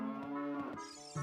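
A cow in Zelda: Ocarina of Time 3D gives one clear, drawn-out moo with a steady tone, heard close and alone.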